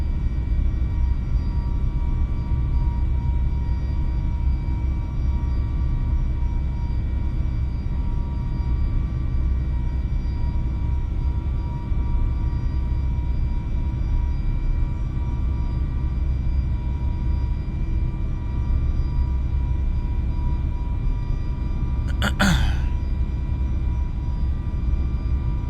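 Steady engine roar of an Airbus A321neo during takeoff in Microsoft Flight Simulator, a constant broadband rumble with tonal hum and a brief sharp click near the end, no talking.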